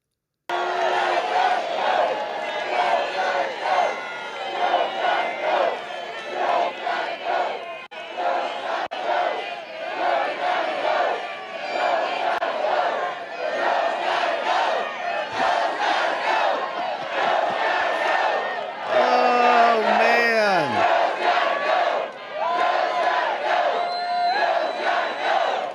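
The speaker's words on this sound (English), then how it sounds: "Pretty big crowd over there for Donald Trump, all responding to the gaffes of our current president" A large crowd at a Donald Trump rally cheering and shouting in a dense, continuous roar of many voices, swelling and dipping, with a louder surge of whoops near the end.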